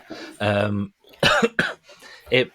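A few harsh coughs and throat-clearing bursts, close and fairly loud, separated by short pauses with a voiced sound between them.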